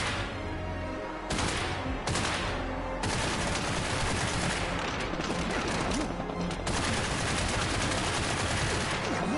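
Gunfire aimed at the player in Get Even, dense bursts of rapid automatic shots in loud volleys with brief gaps between them, close and harsh.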